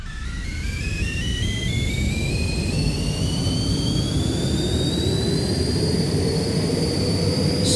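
Aircraft engine in a Unity dog-fighting flight sim game, a loud steady jet roar with a whine that slowly climbs in pitch as the plane climbs, heard alone without speech.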